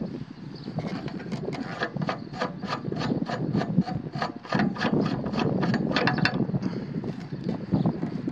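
A wrench is worked while attaching an extension to an Advanced Telescope Systems portable telescope pier, making a steady run of close ratcheting clicks with metal clatter and handling noise that continues throughout.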